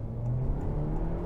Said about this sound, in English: we have nothing stopping us here from revving it out